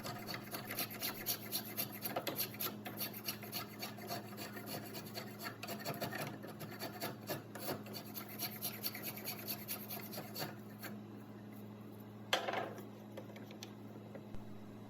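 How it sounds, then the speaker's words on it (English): A steel spokeshave shaving the handle of a carved wooden stave spoon, quick repeated rasping strokes worked side to side in a steady rhythm, close and soft, with a low hum underneath and a sharper scrape near the end. "you can start working with the spoke shave. And just work side to side, taking some off till we get to a more oval shape"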